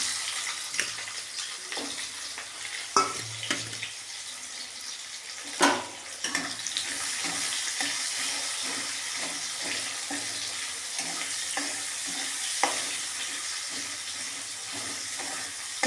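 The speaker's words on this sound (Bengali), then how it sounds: "পেঁয়াজ কুচানো দিয়ে দিব।" Chopped onions hit hot oil in a pan for a potato dal with black cumin, a steady sizzle with scattered stirring scrapes and a sharp clatter midway.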